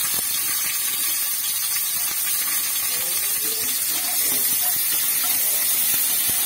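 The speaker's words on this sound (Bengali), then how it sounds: "একটু আদা আর রসুনটা একসঙ্গে ভেজে নেব। এর সাথেই আমি পেঁয়াজটাও দিয়ে দেবো।" Ginger, garlic and onion frying together in hot oil in a pan, a steady loud hiss of sizzling with faint clinks and scraping underneath, continuous throughout.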